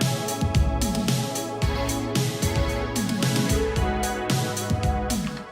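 Electronic music beat with drums locked unstaggered to the bass line, kick hits landing together with the bass notes in a steady repeating pattern under bright layered synths, loud and full throughout.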